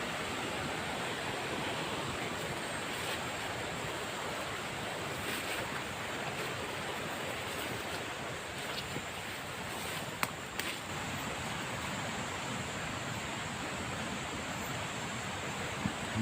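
A stream flows with a constant broadband rush of water, moderately close and fairly faint, with no talk over it.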